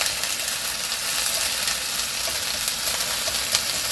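Garlic sizzles steadily in a hot frying pan while stir-fried spicy Korean pork is being made: a dense, even, crackling fry that holds at close range with no talking over it.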